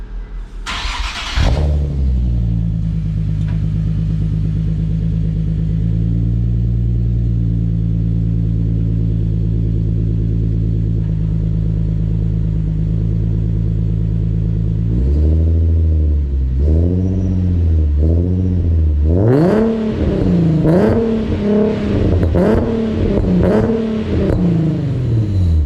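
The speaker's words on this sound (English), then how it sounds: "370 with the test pipes. Sounds a little bit louder" A Nissan 370Z fitted with Z1 test pipes starts up and idles with a deep, loud, steady drone. It then blips through several short revs and climbs into a series of sharp, rising revs near the end.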